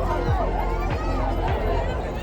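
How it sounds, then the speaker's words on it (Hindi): Busy crowded street in Uttar Pradesh, a steady hubbub of many overlapping voices and movement with passing vehicle sounds, close and continuous. "बहुत ज़्यादा भीड़ मिलेगी आपको।"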